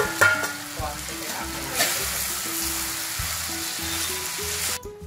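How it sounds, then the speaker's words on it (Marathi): Vegetables sautéing with mixed sauces in a pan for sweet corn chilli, a low steady sizzle under a background of soft music, quiet and close. "सगळे ते सॉस आपण एकत्र केलेले ते घालायचे आणि परतून घ्यायचं भाज्याला"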